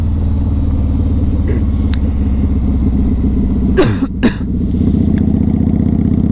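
A 2003 Harley Davidson V Rod with aftermarket exhaust pipes idles with a loud, steady low rumble, and one brief rev swells and then drops back to the even idle.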